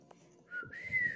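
A person whistles a short rising tone, brief and moderately clear, with faint background noise.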